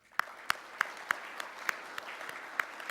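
Symposium audience claps in sparse, separate hand claps spread across a few seconds, faint and thin as the applause tapers off.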